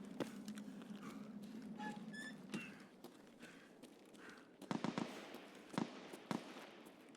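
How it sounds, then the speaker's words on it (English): Distant sniper shots in Escape from Tarkov: a few sharp cracks scattered across the stretch, faint to moderate and irregular, over quiet ambient game noise with soft footsteps. "Sniper Scav is just absolutely beaming somebody"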